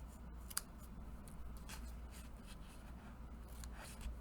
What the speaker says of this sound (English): I'll bring in my scissors and trim off my ribbons.